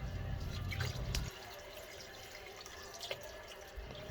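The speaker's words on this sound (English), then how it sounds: "This is my gallon bottle of my apple cider that you see being poured in now" Apple cider pours from a gallon bottle into a pot of brine, a steady liquid stream that thins to drips and small splashes, close and quiet, with no talk.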